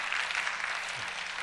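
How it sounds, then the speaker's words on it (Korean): A congregation at a Korean church youth worship service applauds in a brief, steady burst of clapping that sounds soft and spread across the room. "들어가실 때 한 번 더 박수해 주세요"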